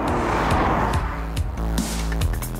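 A BMW diesel car accelerates on a test track, its engine building in a steady, loud roar with rising pitch and brief gear-change dips, heard close and continuous with no talking.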